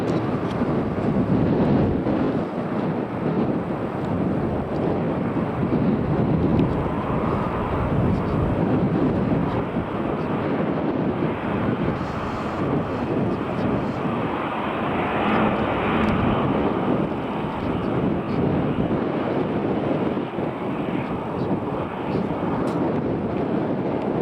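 A fixed-wing airliner at Manchester Airport produces a steady, loud engine roar that holds throughout, with wind buffeting the microphone and someone speaking over it.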